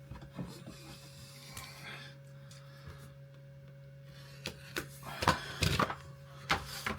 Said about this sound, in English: And there you go, and you've got your ratchet